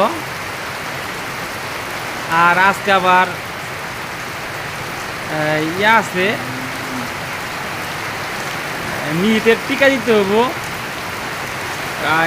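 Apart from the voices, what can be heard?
heavy rain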